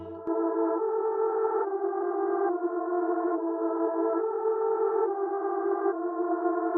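A reversed, chopped Prophet synth lead plays alone, a sustained bright tone whose pitch steps through a sequence of held notes, steady and loud throughout with no talking.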